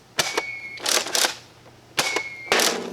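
A Nerf Mega XL Double Crusher blaster fires loud, sharp plunger snaps with mechanical clacks, in two separate bursts about two seconds apart, with no voices.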